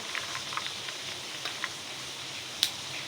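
Heavy monsoon rain falls steadily outdoors, heard as a faint, even hiss with a few tiny drip-like ticks and one sharper tap near the end.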